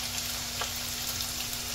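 Tuna patties sizzle steadily in a crowded frying pan, a constant close crackle of hot oil with no break in the hiss and no voices.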